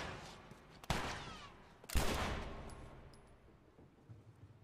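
Two sharp gunshots from a revolver in the video game The Last of Us crack out about a second apart, each followed by a fading echo, with quiet game ambience afterward.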